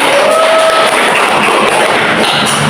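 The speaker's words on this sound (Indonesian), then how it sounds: "Tepuk tangan buat Mbak Elsa dan Mbak Feli" A classroom of junior high students applauds for two classmates, a steady wash of clapping and cheering filling the room at close range, with no speech over it.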